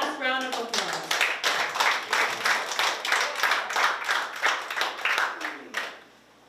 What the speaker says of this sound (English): Let us all please give them one last round of applause.